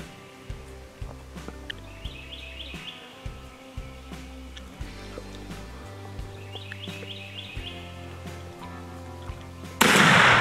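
A 20 gauge Magnum shotgun loaded with heavy shot fires once during a Mississippi turkey hunt, a sharp, loud blast at the very end after a quiet stretch of woods with faint bird chirps.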